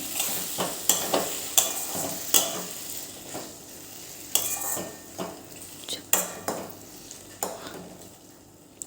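Green eggplant oro is stirred in a pan, a spoon scraping and knocking against the metal in irregular strokes over a soft background sizzle of oil.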